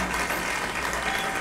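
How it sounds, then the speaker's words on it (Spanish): A church congregation applauds during a service, a brief, even wash of many hands clapping at moderate distance with no voices standing out. "Denle fuerte un aplauso a Jesucristo porque lo hizo guapo, caramba."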